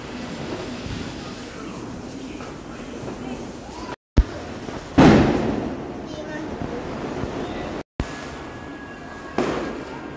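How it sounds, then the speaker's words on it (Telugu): Firecrackers burst at a night-time family festival celebration, with sharp explosive pops standing out against a steady background roar, separated by brief gaps of silence. "సో చాలా క్రాకర్స్ కాల్చామండి, 11 o'clock వరకు కాల్చామన్నమాట"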